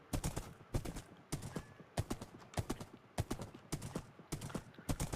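Skeleton horse hooves walking across a desert in Minecraft, a regular clip-clop of crisp hoof taps in repeating groups, close and clear with no talk.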